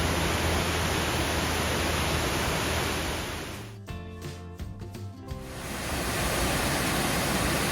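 The man-made Triple Falls in Powell Valley pours as a loud, constant broadband rush of water close by, broken for about two seconds by a muffled, sputtering interruption before the full roar returns.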